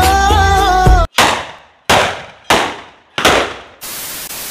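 Diwali firecrackers go off in four sharp, loud bangs at roughly even spacing, each trailing into a crackling decay, followed by a steady hiss; a brief burst of loud music is heard at the start.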